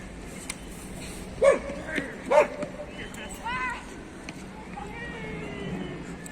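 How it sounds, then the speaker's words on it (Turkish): A tethered dog, a kangal, pitbull or Belgian shepherd in a yard, gives two or three sharp medium-close barks in quick succession, followed by quieter yips under people talking nearby. "Köpek de o yüzden çocuklara karşı bir agresif şey yapıyor ama ısıracağından değil yani sadece havlıyor."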